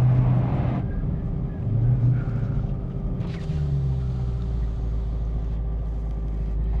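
A 2023 Dodge Demon 170 accelerates hard with a continuous deep, heavy engine rumble and a steady droning tone, loud and close throughout, with no talk over it.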